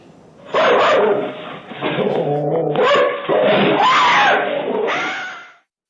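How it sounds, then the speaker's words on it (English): A dog barks loudly and urgently at a bear on a Florida home's porch, sending out repeated close, harsh barks with whiny yips in between. The barking keeps on almost without a break. "the dog knew what was happening, gave a little heads up there"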